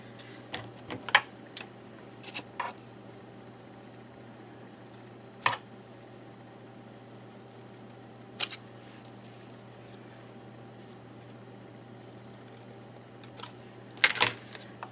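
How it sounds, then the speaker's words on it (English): Scissors cutting a fishtail into folded craft ribbon: a handful of sharp, isolated snips spread over a quiet, steady hum, close by with long pauses between cuts. "go ahead and cut my fishtail at the end"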